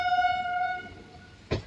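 A train pulling into Lakshmipur Road station sounds a sustained horn blast that fades out, followed by a short, sharp clunk.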